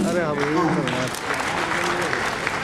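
A voice speaks briefly, then a crowd at a book launch breaks into sustained clapping that continues steadily to the end.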